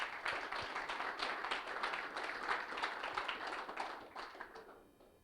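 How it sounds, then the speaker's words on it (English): A crowd applauds continuously at an annual general meeting, a dense patter of many hands clapping that fades slightly toward the end, heard at a moderate distance. "let's have a round of applause for all those."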